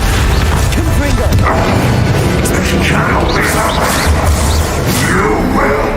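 A Confringo fire spell bursts during a Hogwarts Legacy duel, loud booming crashes and swirling magical effects layered over a dense, continuous game soundtrack.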